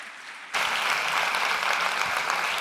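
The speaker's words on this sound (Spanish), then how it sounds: "le vamos a dar también un fuerte aplauso a Anabel Forte" An audience bursts into loud, sustained applause after a brief quiet moment, the clapping dense and steady throughout, at a science talk on robots and uncertainty.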